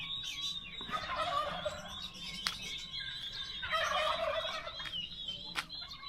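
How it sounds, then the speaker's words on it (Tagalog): Turkeys on a farm in Cabuyao, Laguna, gobbling in several rattling bursts at moderate distance, with faint chirps and birdsong in the background. "Daming pabo sa baba."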